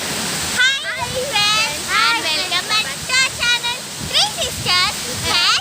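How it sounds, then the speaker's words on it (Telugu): A waterfall at Sigur dam rushes in a steady broadband roar beneath lively, near voices of girls and children talking excitedly over it. "అదిగోండి వాటర్ ఫాల్స్ వినిపించే ఉంటుంది."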